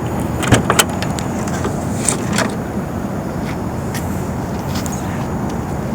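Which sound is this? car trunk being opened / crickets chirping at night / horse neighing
car trunk being opened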